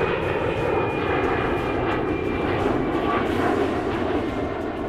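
A Mirage fighter jet roars steadily and loudly overhead, its engine noise a dense continuous rumble with no pauses throughout.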